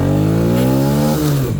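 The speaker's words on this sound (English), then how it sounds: "It actually revs out now." A Yamaha 80cc four-wheeler engine revs up steadily with rising harmonics, loud and close, then eases off near the end.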